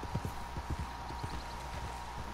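Hooves of a horse in the video game Red Dead Redemption 2 Online, a quick rhythmic clip-clop at a loping pace over steady ambient game noise and a faint tonal hum, moderately close.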